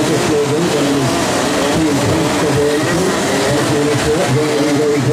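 Race cars accelerate hard out of the final corners of the Genk circuit during a winter trophy race, a loud continuous engine roar with rising revs.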